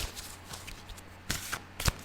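Tarot cards being shuffled by hand, a few soft, quick riffling bursts in quiet surroundings with no talk.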